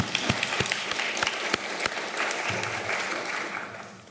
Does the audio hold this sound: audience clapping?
yes